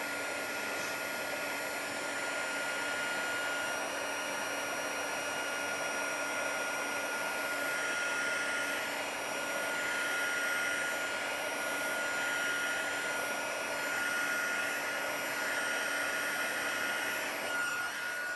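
A heat tool blows hot air steadily to dry stamped ink on a white card, a constant close, even whir that lasts the whole stretch with no talk.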